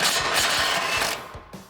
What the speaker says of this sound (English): Go ahead and remove this nut.